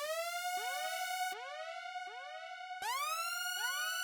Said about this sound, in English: the last sound that we have here is this little siren,